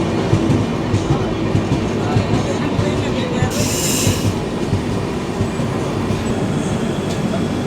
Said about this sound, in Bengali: কামাখ্যা রাঁচি এক্সপ্রেস ছেড়ে বেরিয়ে যাচ্ছে বিন্নাগুড়ি স্টেশন, আমাদেরটাও ছেড়ে দিল।